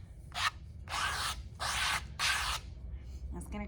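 Wet creamy paint is scraped across a surface for a preschool fall-tree craft in four rough, rasping strokes of about half a second each, separated by short pauses, fairly close and clear.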